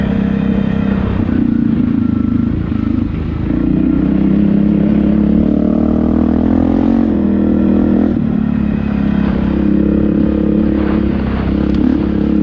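An ATV engine revs steadily and loud up close on a spring trail ride, its droning note rising and falling continuously for the whole stretch with some clatter over rough ground.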